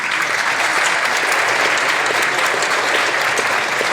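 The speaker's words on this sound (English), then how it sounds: "Please give big applause to her." Guests at a Toronto Taiwanese and Hong Kong community Lantern Festival banquet applaud MP Jenny Kwan, a loud, steady wall of clapping from a large room that holds evenly throughout.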